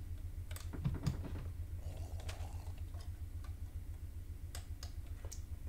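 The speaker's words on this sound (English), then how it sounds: "So I'm going to cut these down now." Repeated clicks while chopping down trees in Minecraft, a quiet string of light taps and ticks over a steady low background hum, with a cluster of sharper hits early on.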